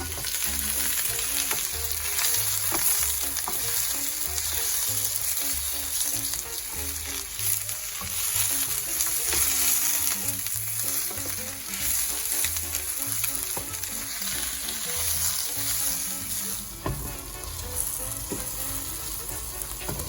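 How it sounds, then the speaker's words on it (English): Onions and Baby Bella mushrooms sauté in a pan with a steady, dense sizzle, while a utensil stirs them constantly and scrapes softly now and then, close and continuous with no talking. "I've been stirring our onions and mushrooms constantly"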